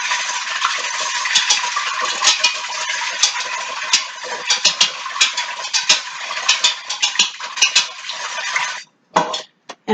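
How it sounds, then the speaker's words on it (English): A metal whisk beats ingredients together in a bowl, producing a steady run of quick, bright clinks and scrapes that continues for several seconds, then breaks off into a few scattered taps near the end. "use my whisk and whisk that together"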